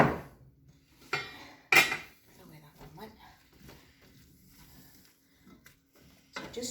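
Diced potatoes tumble into a large pot for homemade leek and potato soup, a couple of clattering thuds and rattles in a quiet kitchen, with someone talking in between.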